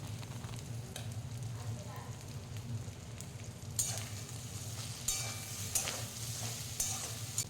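Potatoes and boiled chana dal are stirred and fried in a pan for a vegetarian dal, a quiet steady sizzle under low hum with soft scraping stirs that become more distinct in the second half.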